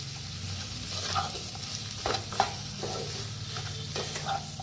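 A spoon stirs potato curry with fresh coriander in a pan, making soft scraping and clinking strokes over a steady low sizzle. The sound is close but fairly quiet, with a few sharper knocks against the pan.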